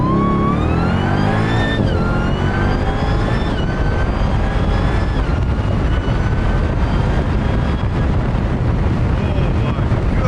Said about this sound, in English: Second gear. Okay, apply full throttle.